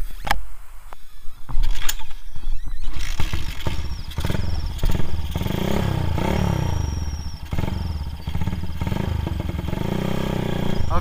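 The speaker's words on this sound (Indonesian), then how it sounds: "Jadi kita akan langsung coba test ride aja motor Cafe Racer ini." A Bajaj Pulsar 180 custom cafe racer motorcycle on a test ride, its engine loud and close, revving up and easing off in repeated rising and falling sweeps over a steady running drone.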